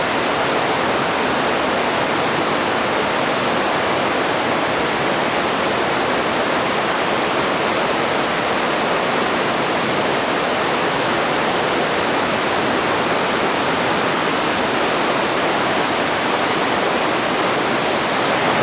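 Water rushes steadily as it flows near a cave and disappears into the ground, a loud, unbroken roar of noise with no pauses or changes.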